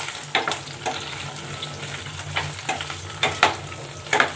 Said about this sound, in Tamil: அதை வந்து லைட்டாக வந்து ஃப்ரை பண்ணிக்கோங்க.